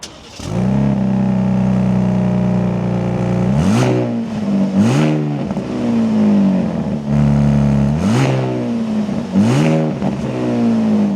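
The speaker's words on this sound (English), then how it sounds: "let's fire this back up and take a listen to that Hurricane engine" Twin-turbo Hurricane engine in a 2026 Ram 1500 RHO pickup fires up and idles with a deep, steady rumble, then is blipped in several sharp revs that rise and fall back to idle, loud and close with no talking.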